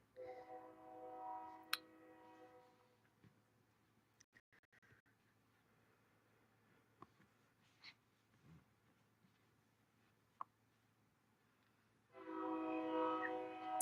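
A train passes nearby, its horn sounding with steady harmonic tones at the start, then a rumbling lull with scattered clicks before the horn blares loudly again at the end.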